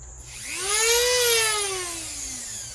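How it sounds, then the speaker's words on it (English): A Dremel rotary tool spins up and winds down at low variable speed during a Baltic birch plywood build, a single close whine rising in pitch, holding briefly, then easing off without talk. "turn that Dremel way down. Use the variable speed"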